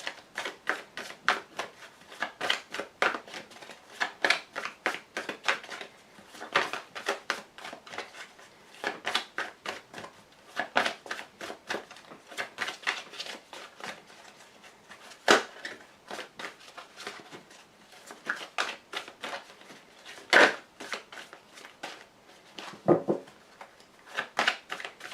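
Tarot cards shuffled and drawn for a five-card reading: a long run of quick, crisp papery flicks and riffles, close and fairly soft, coming in dense bursts with brief pauses between them.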